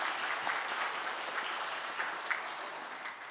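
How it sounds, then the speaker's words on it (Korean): A church congregation claps steadily for a few seconds during a Sunday service, a dense and even wash of applause heard from some distance, with no voices on top. "우리 하나님께 감사와 찬양의 박수 올려드리겠습니다"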